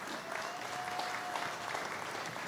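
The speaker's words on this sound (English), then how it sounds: "Let's give Kareen a round of applause." Audience applause at an investment dinner, a steady distant wash of clapping from a seated crowd, faint and even throughout with no voices rising above it.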